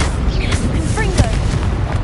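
A Confringo fire blast spell from Hogwarts Legacy bursts loudly amid dense, continuous combat noise, with booming impacts and whooshing effects layered over a busy game soundtrack and a brief voice.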